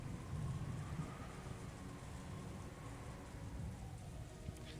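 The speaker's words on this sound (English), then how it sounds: "The storm's not gonna stop tomorrow." Steady rainstorm hiss in a visual-novel scene, soft and constant throughout, with a low rumbling undertone that suggests distant thunder.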